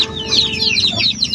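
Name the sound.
chicks clucking at feeding time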